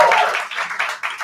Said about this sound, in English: Give a big round of applause for Catherine Myros.